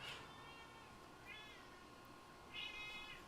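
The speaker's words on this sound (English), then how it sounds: "That was a sleep meow." A pet cat gives three short, soft meows while asleep, spaced about a second apart over quiet room noise.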